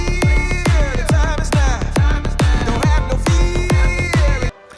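Synth drop in a finished song mix with heavy sidechain pumping and reverb: a kick thumps about twice a second while the bright chord stabs duck and swell against it, loud and full before cutting off near the end.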